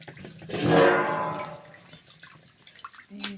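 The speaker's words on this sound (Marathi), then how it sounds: "त्याच्यामध्ये पाणी टाकीते ती डाळ धुवून काढीते" Water is poured briefly into a vessel of mung lentils to wash them, a splashing rush that peaks then fades, followed by faint drips and a small clink.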